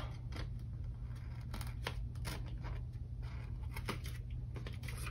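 Scissors snip through a paper planner page in a series of quick, crisp cuts with irregular rhythm, close up over faint low room hum, with no one speaking.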